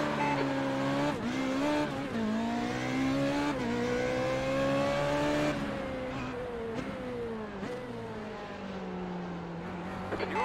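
Formula Renault 3.5 race cars launch at the start at Spa-Francorchamps in iRacing, engines screaming and climbing through upshifts in repeated rising sweeps, loud and close, with other cars' engines layered around.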